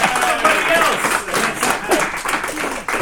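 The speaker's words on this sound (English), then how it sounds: "we'll clap for you" An audience at a convention closing ceremony claps together in a sustained burst of applause, with voices mixed in over the clapping.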